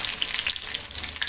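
Mustard seeds and curry leaves sizzle in hot oil, a dense crackling hiss with scattered pops heard up close, brief and steady.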